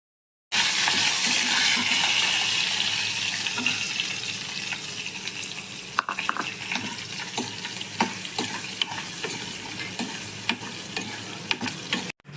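Onion, curry leaves and green chilli fry in hot oil with a loud, dense sizzle that settles down, then scattered spoon clinks and crackles against the pan, without any speech.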